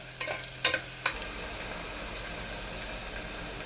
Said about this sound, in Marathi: एकच छोटा कांदा फ्राय करायला घालून घेऊ हा कांदा आता मस्त तळून घेऊया